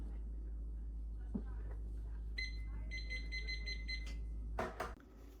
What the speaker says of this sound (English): the timer's gone off for that first batch of bacon